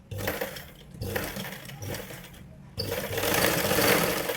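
A sewing machine runs in bursts while stitching a folded blouse edge, its rapid mechanical whirr stopping briefly twice before a longer, louder run, close and with no talk.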